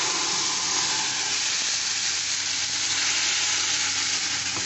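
Blended green chili paste fries in hot oil for a homemade green chili sauce, producing an even, dense sizzle that holds constant and close for the whole stretch, with no voices.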